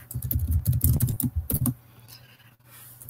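Rapid clicking on a computer keyboard during a creative coding session, a close burst of keystrokes for under two seconds that then stops, leaving quiet room tone.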